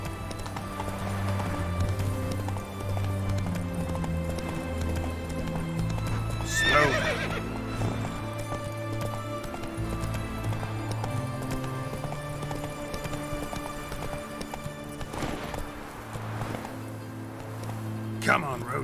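Roach the horse gallops in The Witcher 3 video game, a rhythmic clip-clop of hooves over a droning musical score, with a loud whinny or burst of action midway and another later.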